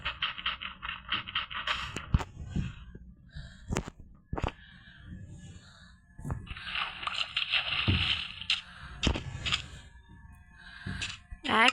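A boat placed and rowed in the Minecraft video game, heard as sharp clicks and scraping, splashy paddle bursts that come in uneven clusters at moderate loudness.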